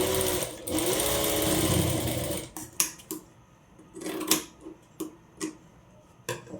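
A sewing machine runs in a sustained loud whirring burst while stitching umbrella frock fabric crosswise, then stops and gives way to scattered clicks and short mechanical taps up close.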